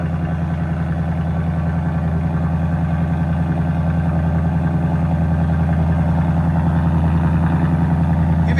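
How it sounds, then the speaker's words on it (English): A 2024 Ford Mustang Dark Horse V8 with an X-pipe and resonator delete idles steadily, a deep, even burble close by and loud, holding constant for the whole stretch with no speech. "This is idle now."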